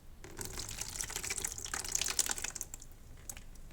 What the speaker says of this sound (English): I'm going to pour this solution, this pulp, into my vat